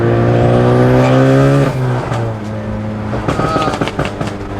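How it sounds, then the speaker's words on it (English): A big-turbo Ford Focus ST with its blow-off valve deleted revs loudly and steadily for about two seconds, its rising tone falling away into a rougher, choppier engine note with faint whistling on top. "I definitely feel like the turbo is louder though, ever since we deleted the blow valve."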